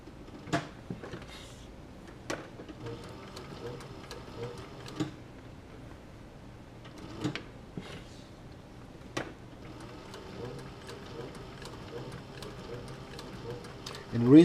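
An industrial sewing machine stitching a leather bucket tote bag with thick 138 thread, running in quick ticking bursts separated by pauses, with a few sharp clicks and knocks, fairly faint and close.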